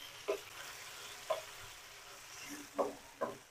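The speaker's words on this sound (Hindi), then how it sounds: "अच्छी तरह से फ्राई कर लेंगे ताकि टमाटर जो है वो बिल्कुल हमारा नरम हो जाए" Small-cut tomatoes frying in hot oil, a faint low sizzle broken by four separate scraping strokes of a spoon against the pan, spaced unevenly and heard up close.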